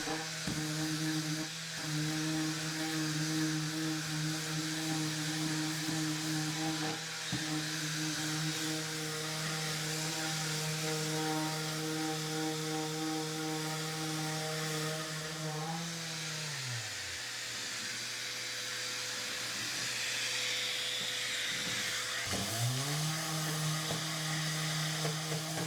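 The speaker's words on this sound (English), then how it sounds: "This little sander from Woodworking comes in super handy for angles where a normal sander can't get." A small handheld power sander works over a wooden 2x4 bench, giving a steady motor whine with a constant pitch that twice spins down and then comes back up to speed, close and alone.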